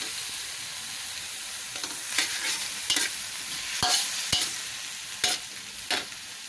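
Pork stir-fried in a pan without oil for a spicy salad: a steady sizzle with repeated scraping strokes of a utensil against the pan, close and fairly loud, no talk.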